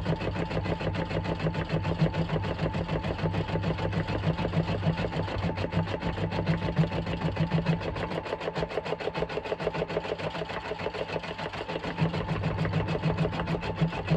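An embroidery machine stitches a Halloween design in a steady, rapid mechanical rhythm, a continuous close hum of needle strokes with a brief dip in the low drone partway through.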